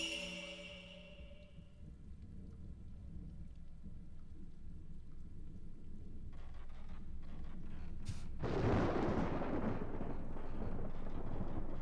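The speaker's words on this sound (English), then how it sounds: "That lightning effect was always so cool." Rain and thunder from the video game Fatal Frame II: Crimson Butterfly. A steady downpour carries a low rolling rumble, then a sharp crack and louder crashing thunder burst near the end, with no talking.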